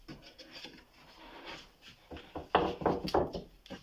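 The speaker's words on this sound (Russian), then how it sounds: "А затем уже доработаем, зачистим стамеской." A chisel pares a wooden joint for a handmade sliding window, giving short rasping scrapes in uneven bursts that grow louder and quicker toward the end.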